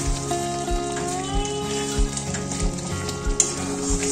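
Prawn curry sizzling in a pan while being stirred, a bright crackling hiss under a rhythmic low thump of the spoon roughly every half second, close and fairly loud.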